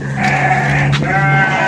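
A Garut sheep lets out two quick, close bleats in succession, loud and nasal, on a livestock farm.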